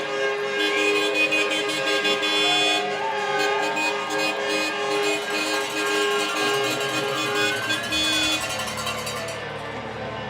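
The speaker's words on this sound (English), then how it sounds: "Lots of air horns, lots of cowbells in attendance here tonight." Air horns blare in long sustained blasts over a loud, noisy hockey arena crowd, with clanking cowbell hits mixed in.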